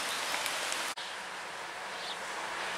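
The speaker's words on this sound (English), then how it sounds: "Now the rain's getting heavier" Heavy rain falling steadily beside a canal under a sheltering spot, a dense continuous hiss close by with a brief dropout near the start.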